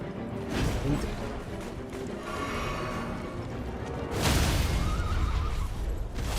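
A horse whinnies loudly up close amid Elden Ring game noise, followed by a crashing impact and a second, fainter whinny.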